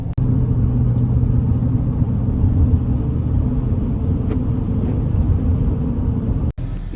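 A cattle trailer truck hauling corn drives along with a steady, loud low engine rumble and road drone heard from inside the cab, unbroken apart from a brief dip.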